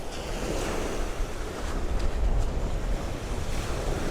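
Strong wind at the sea shore on Fehmarn, with steady roaring gusts and crashing surf buffeting a microphone, loud and continuous with no talking.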